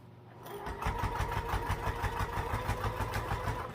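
A sewing machine stitches a 3/8-inch seam on a backpack with a steady, fast rhythmic clatter that runs close and continuous for several seconds.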